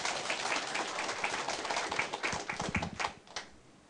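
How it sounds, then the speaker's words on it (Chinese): An audience at a closing address claps together in sustained applause, a dense patter of many hands at moderate volume that thins and fades toward the end, with no talk. "咱甲鼓掌一下。"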